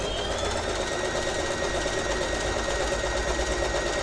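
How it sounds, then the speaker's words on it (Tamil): A sewing machine runs steadily while stitching along a marked line on a lehenga skirt, a continuous close whirring hum with rapid needle clatter and no pauses. "அந்த மார்க்கிங் மேலேயே வச்சுட்டு ஸ்டிச் பண்ணிகிட்டே போங்க"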